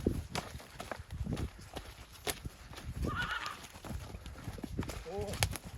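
Hooves clip-clop on the ground as a horse is led off to work, irregular near steps accompanied by a neigh, with people talking over them.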